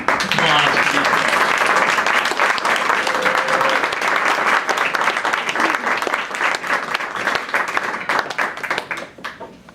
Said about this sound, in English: Would you please give a round of applause to these folks?